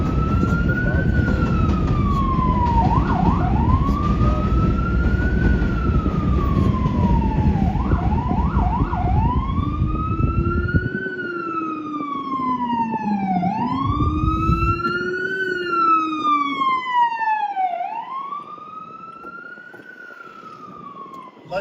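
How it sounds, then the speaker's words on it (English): Emergency vehicle sirens wail through a New York City street, several overlapping rising-and-falling tones over heavy traffic rumble, one siren passing close and loud before the sound thins and fades into the distance. "Let this emergency vehicle go by me."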